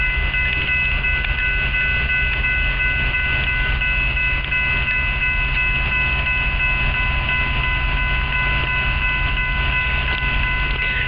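Freight cars are switched around at Miller Yard on the Ohio Central by a new locomotive. A loud, continuous rail rumble rolls on steadily without a break.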